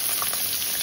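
Sliced onion goes into hot oil already tempered with cumin seeds, dried red chillies and a bay leaf, giving a steady close crackling sizzle throughout.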